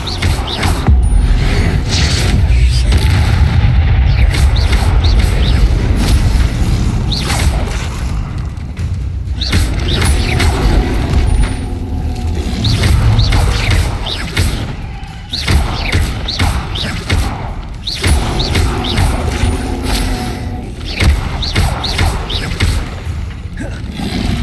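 Bombarda and Incendio spell blasts in Hogwarts Legacy: continuous loud booms, thuds and crashing bursts piling up over a dense, roaring battle din, with no gap in the chaos.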